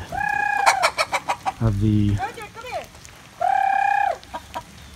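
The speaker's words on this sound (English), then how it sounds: "homesteader luring her chickens to food." Chickens cluck and squawk close by in quick bursts at a homestead as they are lured to food, with a rooster-like call partway through and a brief low voice among them.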